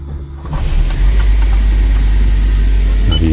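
A Toyota Prius with a P2601 coolant heater pump fault is switched on. A loud, steady low hum starts within half a second, holds close and constant, and gives a brief rattle near the end.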